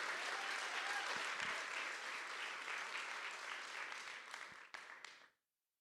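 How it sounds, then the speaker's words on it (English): An awards-ceremony audience applauds volunteers with sustained, dense clapping that starts loud and gradually thins out before cutting off, with no talk over it. "Let's give them one last round of applause."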